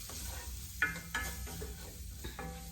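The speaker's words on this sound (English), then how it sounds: "you want to make sure that you stir and get all of the flour and get all of the oil onto the flour" Flour is stirred into hot oil for a roux for smothered pork chops gravy, with a few soft scraping strokes over a faint, steady sizzle, close and without talk.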